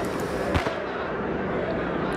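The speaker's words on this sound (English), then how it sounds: "So I think it's time for our classic firecracker barrage." A firecracker barrage in the riot video game Riot Civil Unrest crackles as a dense, continuous wash of noise, with a sharper pop near the middle and no clear talk.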